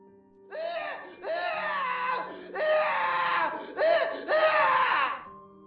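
A man screams in anguish as a sound effect in a French creepypasta narration of a sleep experiment, several long wailing, sobbing cries in a row, loud and close with short breaks between them.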